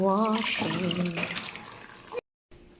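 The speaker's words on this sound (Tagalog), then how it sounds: "Siyempre, kailangan natin siyang hugasan." Tap water runs while freshly picked garden produce is washed under it, a steady splashing stream partly under a speaking voice, then it cuts off abruptly before a faint return.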